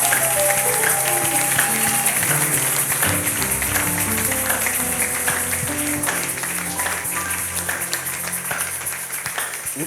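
Church congregation applauding and cheering to acclaim the Lord, a steady dense wash of clapping with voices and sustained tones underneath, loud and continuous throughout.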